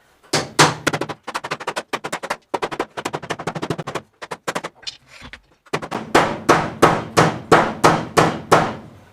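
Sharp metallic hammer blows on a car's sheet-metal body panel, fast irregular bursts at first, then a pause and a steady run of evenly spaced, ringing strikes.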